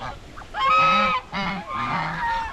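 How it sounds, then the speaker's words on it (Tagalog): Male turkeys on a farm call out in loud, nearby honking bursts, three harsh calls in quick succession with short pauses between them, and no voices. "Tatlo na yung pabo natin na tandang dito."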